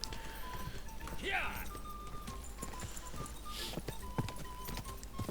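Horse hooves clopping along a path in the video game Kingdom Come: Deliverance 2, a steady rhythmic clip-clop under ambient game sound and a brief whinny, with talking over it.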